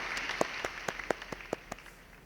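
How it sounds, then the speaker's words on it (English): A small group claps for the winners at the 2020 APSC171 CAD/CAM Design Competition: a dozen or so sparse, distinct hand claps in a loose, uneven rhythm, fairly quiet and fading toward the end. "Please give them a round of applause."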